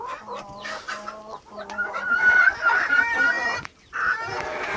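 Silkie chickens cluck nearby in soft, repeated calls, with higher drawn-out notes overlapping in a busy flock chatter that is clear and fairly loud.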